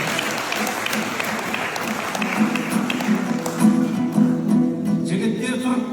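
Wedding guests at a Kazakh toi clap together, a steady dense burst of applause rising and swelling near the end, with a faint murmur of voices and music underneath.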